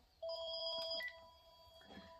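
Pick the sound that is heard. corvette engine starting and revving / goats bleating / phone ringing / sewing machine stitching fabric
phone ringing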